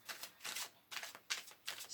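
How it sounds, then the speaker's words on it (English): Tarot cards are shuffled in quick, soft riffling bursts, several brief papery flutters in close succession, faint and close with no talking. "I'm just going to shuffle the cards."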